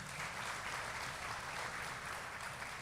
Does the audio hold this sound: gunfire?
no